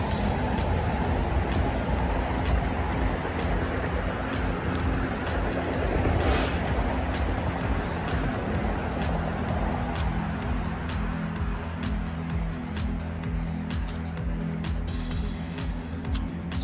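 Steady traffic noise from nearby roads on a hiking trail, a continuous loud road roar with passing vehicles washing in and out, constant throughout.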